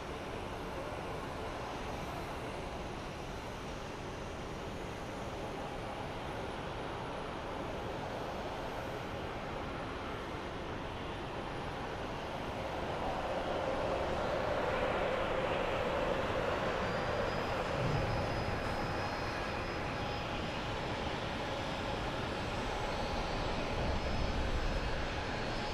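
A Breeze Airways airliner at Phoenix Sky Harbor airport, a broad jet engine roar that rises gradually and stays loud, heard from a distance outdoors with no talking.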